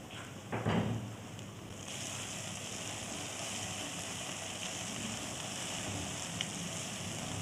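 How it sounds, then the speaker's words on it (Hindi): Masala spices with red chili and cumin frying in a pan for egg curry, giving a steady close sizzle throughout after a brief clatter near the start. "भून लूँगी सारा मसाला।"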